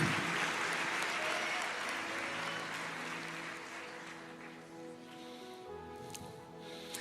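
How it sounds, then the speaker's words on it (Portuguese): A church congregation applauding, a dense wash of clapping that is loudest at the start and slowly thins out, heard from within the room. "Igreja, aplauda o Senhor"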